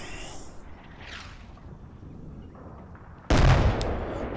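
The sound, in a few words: mortar fire in the video game Combat Mission Red Thunder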